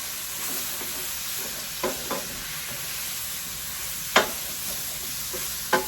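Garlic sizzles in a pan on the stove for dinner, a steady hiss broken by several sharp scrapes and clinks of a utensil stirring it, fairly close with no talking.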